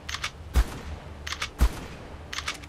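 A gun in Ark Survival Evolved (Aberration) fires single heavy shots, two sharp, close reports about a second apart amid faint clicking and background noise.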